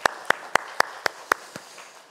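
A church congregation claps in unison during a Korean Sunday worship service. About seven crisp, evenly timed claps sound in a steady beat, and the last one comes softer as the clapping fades out.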